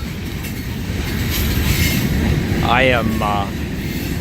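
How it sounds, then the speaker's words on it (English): A freight train rolls past near Proctor Creek by the Chattahoochee River with a loud, steady rumble and clatter of wheels on rails, while someone briefly speaks over it. "since we all love trains, I just wanted to show you a little freight train action here."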